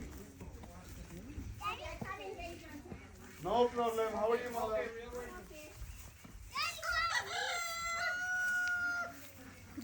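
A rooster at a farm in Pickering that keeps native ducks and chickens crows twice loudly, each a long rising call, with clucking fowl around and children and adults talking nearby.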